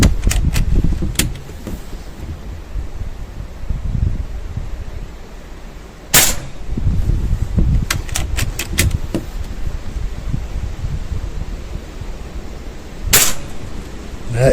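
Shots fired on a very windy day: loud, continuous wind buffeting carries a few sharp, distant cracks spread across the stretch, with two or three standing out more strongly.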